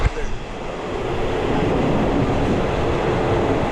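A passenger train passing through Bangkok, Thailand, a broad steady rumble with rail noise that swells in after a short start and holds loud and close to the end.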